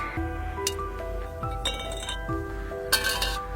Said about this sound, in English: It's like an empty can dropping onto a steel surface. Very metallic.